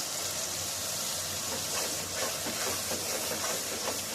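Continuous hissing sizzle as sour yogurt hits hot, oily masala in a pan over a gas flame, steady and close with small bubbling pulses and no voices.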